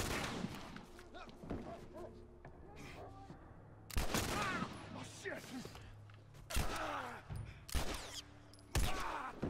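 Gunshots in The Last of Us, a series of sharp booming shots spaced a second or two apart among quieter in-game noises, with a voice talking briefly in between.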